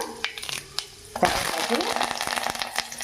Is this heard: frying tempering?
yes